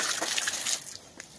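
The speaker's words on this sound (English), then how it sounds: "Rinse off some of the dirt." A water hose rinses dirt off a car wheel, a steady hissing spray for most of a second before it cuts off, leaving a few faint drips and splashes.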